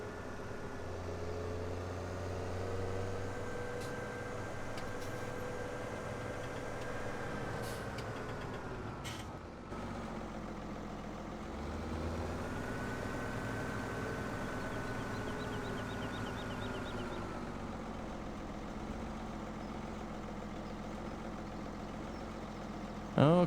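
Tractor engine in Farming Simulator 17 running steadily at a low idle-like drone, holding constant loudness for the whole stretch with a brief dip midway and no talk over it.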